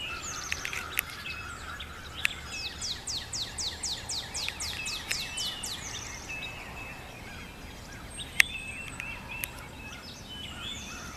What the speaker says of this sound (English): I guess I got to hear the birds sing.